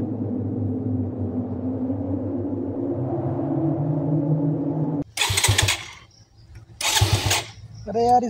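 A motorcycle engine cranks and struggles to start, a low steady churning for several seconds, then bursts of harsh broadband noise with gaps between them, ending as a voice speaks.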